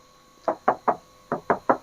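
Knuckles rap on the metal body of a middle door on a 2018 Mitsubishi Pajero Sport Dakar 4x2, six crisp, close knocks in two quick groups of three with a short pause between.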